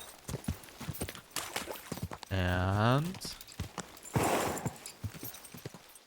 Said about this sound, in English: So this is now our horse's top speed.